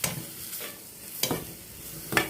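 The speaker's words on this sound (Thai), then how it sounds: "ขัวบพริกหอมมะเขือเทศ" Chilies, shallots and tomatoes are dry-roasted and stirred in a pan for Isan-style jaew, giving close scraping stir strokes over a faint background sizzle, with a few louder sweeps and no speech.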